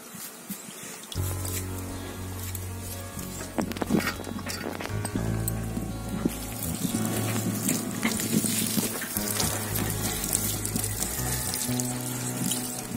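Water pours and splashes steadily over a turmeric-rubbed country rooster being washed in a village kitchen, a continuous close rushing and trickling that runs unbroken for about thirteen seconds over a low background hum.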